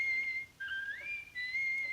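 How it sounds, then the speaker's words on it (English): A thin, steady whistle holds one pitch, dips and slides upward, then pauses and resumes, sounding slightly tinny as if heard over a phone line. "Good for her for whistling through the phone"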